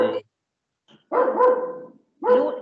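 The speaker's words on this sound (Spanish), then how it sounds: "no deje que Lula ladre" A dog barks three times at close range, each bark loud and separated by short silences, in an indoor home setting.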